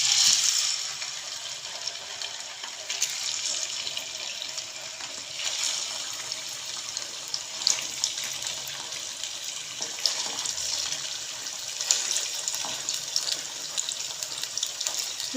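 About 1.5 kg of chicken frying in hot oil in a karahi for tomato chicken karahi: a continuous bright, hissing sizzle sounds nearby, swelling now and then with louder crackling bursts.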